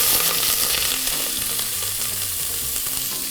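Steady loud sizzling of onions frying in hot sesame oil for spicy ramen, a continuous crackling hiss with occasional stirring scrapes, close up and with no talking.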